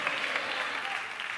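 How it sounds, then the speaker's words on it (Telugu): A church congregation clapping together, a brief dense burst of applause heard at a moderate distance. "చప్పట్లు కొడుతూ హల్లెలూయా"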